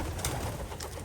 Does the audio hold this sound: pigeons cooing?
yes